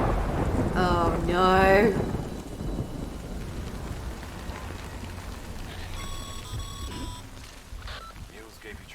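Rain and rolling thunder in the video game Death Stranding, a steady wash of rainfall under a low rumble, with a character's brief spoken exclamation near the start and a short electronic beeping tone later.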